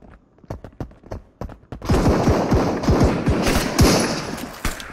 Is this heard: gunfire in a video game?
yes